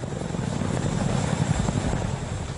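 Deep, pulsing rotor beats of a Mil Mi-26 heavy helicopter in flight, a constant heavy chop layered over a roaring engine.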